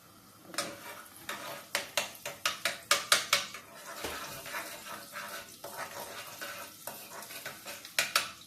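Garlic in hot oil in a pan, a soft background sizzle under repeated metal spatula scrapes and clacks against the pan, stirred in quick bursts of several strokes with pauses between, no talk.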